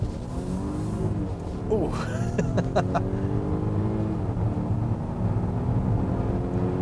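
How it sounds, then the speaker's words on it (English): A 2020 Volvo XC90 T8 turbocharged SUV accelerating hard in power mode, its engine note climbing in steady rising sweeps from inside the cabin, with a brief exclamation from the driver partway through. "Let's put our foot down here and see how it does."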